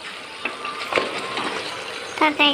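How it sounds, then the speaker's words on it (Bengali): A meat and potato curry being stirred in a pan, with wet scraping and sloshing strokes at intervals over a soft sizzle, ending in a couple of louder clatters. "দেখুন একবার নেড়ে দেবো আমি তরকারিটা"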